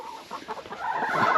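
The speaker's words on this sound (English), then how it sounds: "come on, chickens, back up" Hens in a hoop coop chicken house cluck close by in short, uneven bursts that build toward the end.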